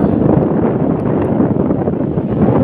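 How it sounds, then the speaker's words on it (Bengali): Strong wind on the seashore at Mandarmani roars loud and steady against the microphone, a continuous blustering rumble with no pauses. "এত হাওয়া"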